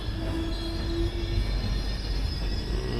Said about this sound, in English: It's just the freight train.